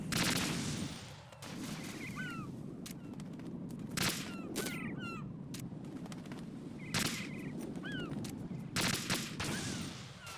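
SOCOM pistol gunfire in Metal Gear Solid 2, several sharp, loud shots spaced irregularly over a noisy game backdrop with chirping electronic effects and no speech.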